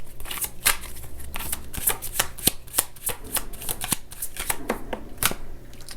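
A deck of tarot cards is shuffled up close, giving crisp, rapid riffling and snapping flutters in quick irregular bursts.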